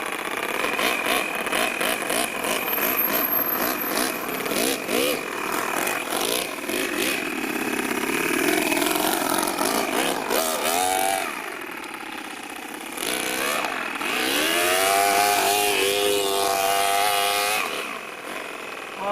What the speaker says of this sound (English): How nice is it idling?